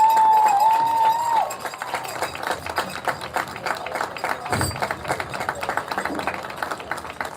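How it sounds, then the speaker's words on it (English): A stadium crowd applauds and cheers for both teams after a high school field hockey state championship game, with sustained dense clapping that stays at a steady level throughout. "let's give a nice round of applause to both teams for their fine efforts"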